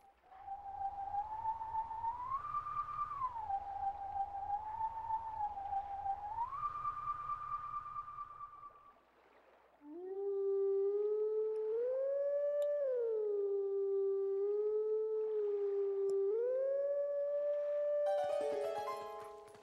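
A wolf howling song at a howling statue in Zelda: Twilight Princess: two long melodic howled phrases with gliding, held pitches. The first rides over a low droning bed, and the second, after a brief pause, is louder and more layered.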